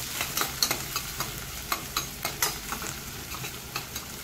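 Sliced onions sautéing in hot oil for masala tomato rice, a constant close sizzle with a quick, regular run of spatula scrapes and taps through it.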